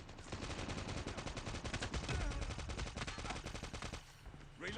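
Rapid automatic gunfire from the mobile shooter game Call of Duty Mobile, dense bursts of shots rattling continuously and loudly for several seconds, with a brief lull near the end.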